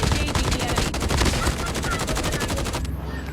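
Rapid automatic gunfire from a video game scrimmage on a refinery map, dense continuous bursts of shots filling the clip, loud and close, with faint talk underneath.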